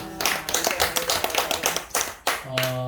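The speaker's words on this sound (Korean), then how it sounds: "박수." Brief applause from an audience at a theology school lecture, a few seconds of steady clapping that fades out, followed by a voice starting to speak.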